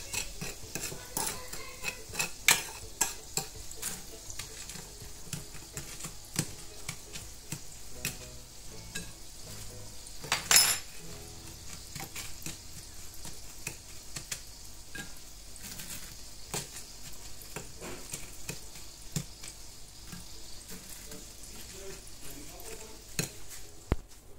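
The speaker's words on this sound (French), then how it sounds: "Moi, je vais les enrober de sucre avec un peu de cannelle." Fried churros tossed in sugar and cinnamon, giving a steady close rustling and scraping patter with light clinks of utensil against bowl and one sharper knock partway through, with no talking.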